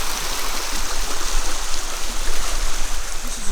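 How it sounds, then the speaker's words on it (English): Floodwater rushes steadily through a culvert under a residential driveway, a close, continuous gushing and burbling with no pauses. "the water now goes down under my culvert across the front of my drive, and then right at the end it kicks back over this way"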